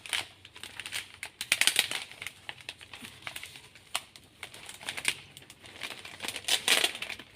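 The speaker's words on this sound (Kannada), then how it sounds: "ಟೇಪ್ ಹಾಕ್ಕೊಂಡು ಒಂದು 2-3 ಸುತ್ತು ಹೀಗೆ" Adhesive tape pulled and wound two or three times around the cover of a handmade haldi kumkum doll, a close run of crinkling, crackling and soft tapping that rises and falls, with no voices.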